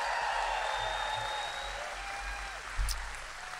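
Applause rises from a comedy club audience, a soft sustained patter of clapping with a brief louder burst near the end, heard from a distance at low level.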